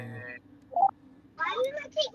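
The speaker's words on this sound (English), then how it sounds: "Steven's phone is connected to the car." Brief electronic phone tones sound from a phone connected to a car's audio, coming in short bursts broken up by speech.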